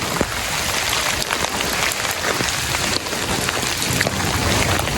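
Heavy rain pours down on flooded roads and puddles as a dense, steady wash of noise. It is loud and close, with no pauses and no talking.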